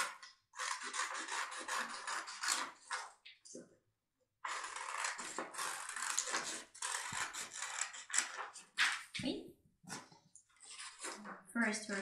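Scissors snip and rasp through paper while cutting out a children's insect puzzle, a run of close, dry cutting strokes broken by short pauses.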